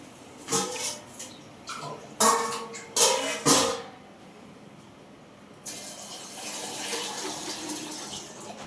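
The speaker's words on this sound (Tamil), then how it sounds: "தண்ணி ஊற்றி விடுவோம்." A few clanks and knocks, then a steady stream of water pours and splashes for several seconds, fairly close.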